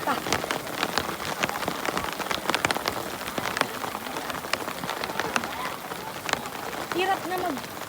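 Heavy rain pours steadily onto a football pitch during an under-19 match in Chiang Mai, with loud spattering drops, while voices speak and shout faintly underneath the downpour.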